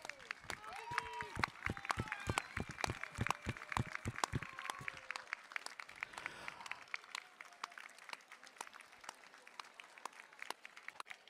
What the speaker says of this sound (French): J'aimerais qu'on applaudisse Guigui Grenson